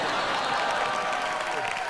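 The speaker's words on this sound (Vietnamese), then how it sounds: "các bạn khán giả, tại sao lại vỗ tay với một cái giọng hát như thế này ạ?" A television studio audience applauds a singer who has just performed a bolero song, the clapping dense and steady throughout.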